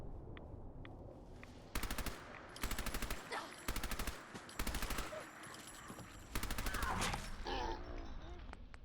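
Loud bursts of automatic gunfire from the game Fallout 4, about six rapid rattling volleys broken by short pauses, over a constant background of game ambience.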